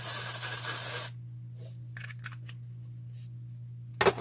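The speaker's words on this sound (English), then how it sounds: "Let's just spray it." A short hiss of aerosol spray, then quiet with a low steady hum and a few faint rustles and clicks near the end.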